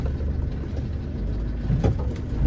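A diesel 1988 Land Rover 110 with a 300tdi engine rolls in reverse, its engine humming steadily and low throughout, close by with no talk over it.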